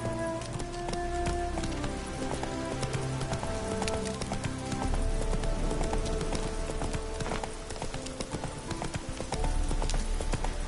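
Horse hooves gallop in a fast, steady clip-clop rhythm in The Witcher 3 video game, loud and close, with faint game ambience underneath.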